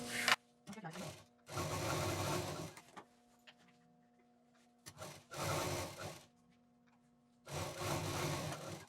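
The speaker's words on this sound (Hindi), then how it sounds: "ये तो कपड़े को बस थोड़ा सा ऊपर रखते हुए और इसको सिल देंगे।" Sewing machine stitching a long pocket with a zip onto a cloth tote bag, in four separate bursts of fast motor chatter, each a second or two long, with quiet pauses between them.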